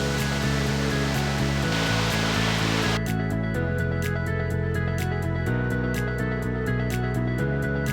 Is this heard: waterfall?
yes